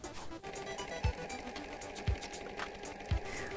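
A sewing machine stitches a patch onto a garment with a continuous close mechanical whir, marked by three soft low thumps about a second apart.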